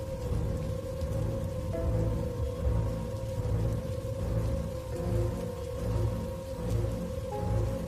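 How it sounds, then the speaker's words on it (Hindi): Steady rain falls continuously with a constant hiss and patter, accompanied by a low steady hum throughout, no voices. "सिर्फ लगातार बारिश की आवाज के अलावा कुछ सुनाई नहीं दिया"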